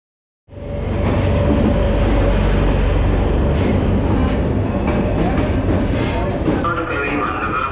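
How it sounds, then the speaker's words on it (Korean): Onboard a Sri Lankan passenger train in Colombo, a loud continuous rumble of wheels on rails rises suddenly, then runs steadily with rattling carriages and occasional clicks and squeals. "타보는 스리랑카 기차인데 깔끔하고 좋은데요."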